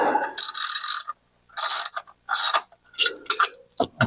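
A ratchet crisscross-tightens clutch pressure plate bolts on a 1967 Chevrolet Corvette, sounding as loud, close bursts of rapid clicking separated by short silences.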